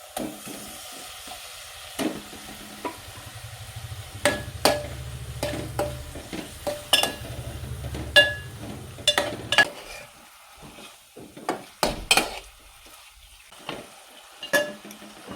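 Fish pieces fry in a pan, a soft sizzle running beneath repeated sharp stirring clinks and scrapes of a utensil against the pan, irregular and close, with no talk.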